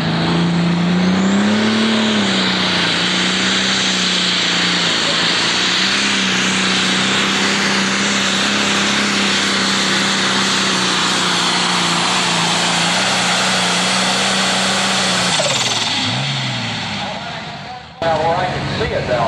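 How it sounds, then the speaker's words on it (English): A John Deere Pro Stock pulling tractor with a turbocharged diesel engine roars loud and steady down the track at a 10,000-pound tractor pull at Fort Recovery. The sustained engine drone holds for most of the clip, then fades and cuts off near the end. "ready to bring the big John Deere up the line"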